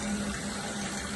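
Water runs steadily into a container that holds sanitizer or bleach, a continuous hissing, trickling fill with a faint pump-like hum, close and moderately quiet, with no talk.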